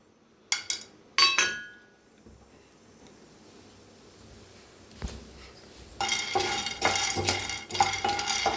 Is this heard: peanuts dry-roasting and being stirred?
yes